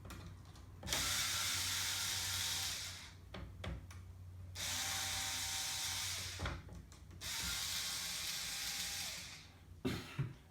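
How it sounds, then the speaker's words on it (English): Three long bursts of close ratcheting, clicking mechanical noise come from undoing a Y axis GT2 belt clamp, separated by short gaps with small knocks and handling sounds. "we're going to undo the actual belt clamp. And also the belt clips"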